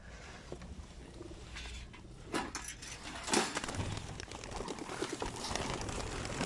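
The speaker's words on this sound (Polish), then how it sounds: "Gołębie startują." A flock of racing pigeons released outdoors flutters and coos, wings flapping in bursts over a constant wash of ambient noise.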